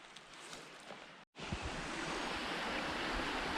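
Steady rushing creek water fills the air after a brief silent gap, a broad continuous wash with a faint windy edge.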